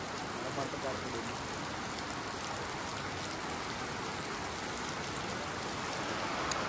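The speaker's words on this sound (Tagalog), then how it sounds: "Ngayon naman po ang ulan, ang lakas oh." Steady, dense rain hisses evenly throughout, a continuous heavy downpour with no breaks.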